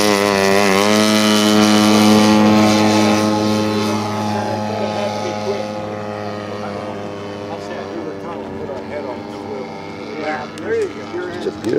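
A 1/3 scale Balsa USA Ercoupe model plane with a DLE 64 twin gas engine, loud and close at first, its buzzing propeller drone fading slightly as it pulls away, with voices faint beneath.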